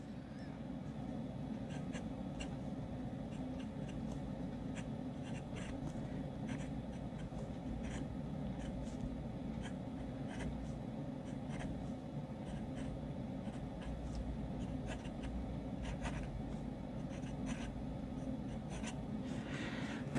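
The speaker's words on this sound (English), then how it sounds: "Really easy pen to write with." A Gravitas polycarbonate fountain pen writing steadily on paper, a soft continuous scratch with small stroke-by-stroke ticks over a constant background hum, heard alone without talk.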